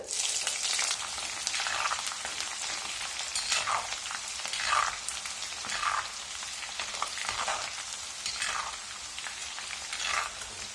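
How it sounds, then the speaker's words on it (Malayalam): Continuous hissing sizzle of chopped green chillies frying in hot oil, with faint pops and crackles throughout, close and steady with no talking. "ഇതിലേക്ക് നമുക്ക് മുറിച്ച് വെച്ചിരിക്കുന്ന പച്ചമുളക് ചേർക്കാം"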